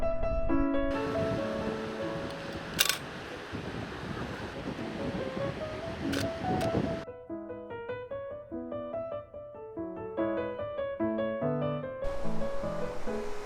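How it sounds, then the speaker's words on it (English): Ocean waves roll in on a very windy day, a broad wash of surf and wind rumble that is partly covered by tonal music. The surf is heavy at first and then fades back under the melody. "I set up my camera to focus on the waves coming in one after another."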